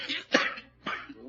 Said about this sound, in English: He's got a bad cough.